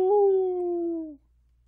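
A dog's single sustained howl, a clear steady tone that holds for about a second before cutting off, close and fairly loud with quiet afterward.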